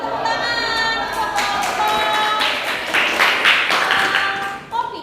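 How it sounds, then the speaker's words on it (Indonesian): Classroom applause for a presenting group of students, scattered clapping mixed with taps and thumps, with voices of the teacher and students talking through it. "Tepuk tangan untuk"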